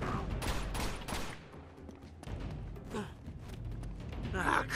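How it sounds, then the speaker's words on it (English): Grenade launcher and other gunfire in the Uncharted 2 Among Thieves Remastered video game, a run of loud bursts and blasts with game noise and someone speaking between the shots. "Dude has a grenade launcher."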